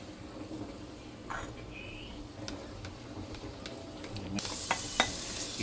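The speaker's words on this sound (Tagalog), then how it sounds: "Igisay natin siya ng konti." Onion sautés in hot oil in a pan for a vegetable and dried-mushroom stir-fry, a soft steady sizzle with light stirring clicks that swells into a louder crackle near the end.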